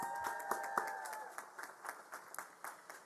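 Audience applause at an Elizabethtown College commencement ceremony honoring the founder of the OT program, scattered claps with a few sharp ones early on, moderately faint and tapering into sparse clapping, with a faint voice and tones underneath.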